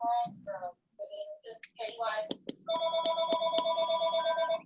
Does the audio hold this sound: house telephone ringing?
yes